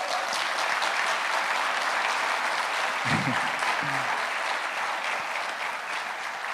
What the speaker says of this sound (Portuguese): Fica melhor ainda se você aplaudir Jesus